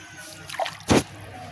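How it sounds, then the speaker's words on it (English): Water poured and swished around a mortar used for pounding palm nuts, giving a short trickle followed by one louder splash, close and alone without talk. "So I'm going to rinse my mortar again."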